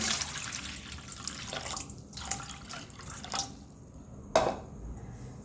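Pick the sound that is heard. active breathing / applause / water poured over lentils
water poured over lentils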